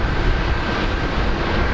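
A Qantas airliner on the runway at Brisbane Airport during a morning rush, a steady, broad engine rumble heard from a distance for a short moment, with no voices over it.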